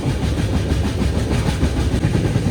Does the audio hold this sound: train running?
yes